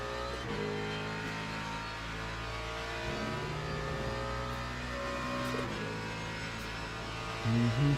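Mustang race car engine in a racing video game at Spa, a steady droning engine note holding constant with slight revving swells, continuous and fairly loud throughout with a brief rise at the end.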